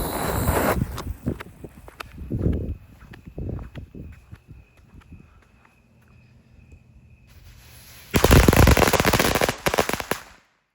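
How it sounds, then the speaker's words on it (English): A Wolfpack 100-strip of folded firecrackers pops in rapid crackling bursts, scattered at first, then a dense, loud finale volley near the end. "Next up are the Wolfpack 100s"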